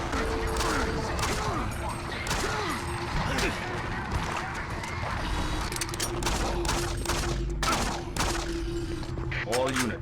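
Gunfire in Doom 3 on Xbox crackles in rapid bursts over a loud, dense game soundscape with rumbling effects and a voice talking over it.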